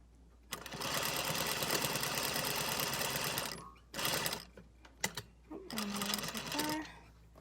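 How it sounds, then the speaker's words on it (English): Sewing machine stitches a folded fabric belt cut from bedsheets closed, whirring in one long steady run of about three seconds, then several short stop-start bursts as the seam nears its end. "And then I'm going to sew this closed."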